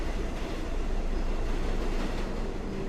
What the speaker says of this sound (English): the train on the other track zoomed by.